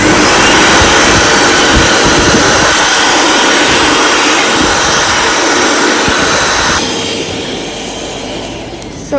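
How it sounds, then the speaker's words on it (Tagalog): A hand dryer in a public restroom in Finland blows with a loud, steady roar, dropping slightly in level near the end. "Tapos meron rin yan hand dryer."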